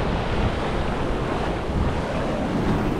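Sea waves wash onto a beach in Panaji, Goa, India, a steady broadband surf roar mixed with wind buffeting the microphone, continuous and fairly loud for the whole stretch with no voices.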